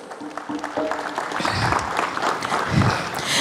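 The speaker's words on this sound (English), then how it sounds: "Let's give her a quick round of applause" Clapping at a school programme opening event builds into a full round of applause from the crowd, with some voices and a faint cheer mixed in.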